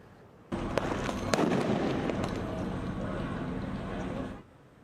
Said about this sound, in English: protesters clashed with police, some setting off fireworks and starting fires